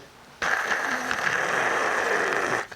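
A steady mechanical whirring with a gritty, rattling edge from a worn alternator bearing starts abruptly and runs for about two seconds, loud and close, then cuts off.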